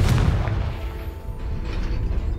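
The Confringo fire spell in Hogwarts Legacy lets out a loud, booming blast with a heavy low rumble and a sharp initial crack, then a rough, crackling tail that holds steady for a couple of seconds.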